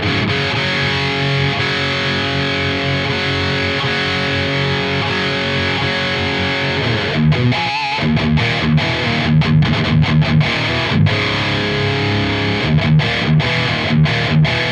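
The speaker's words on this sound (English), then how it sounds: "Let's dial a like good overdriven sound." A thick, overdriven electric guitar through a Marshall JCM900 tube amp plays sustained chords and riffs, with choppy muted stops in the second half, loud and close.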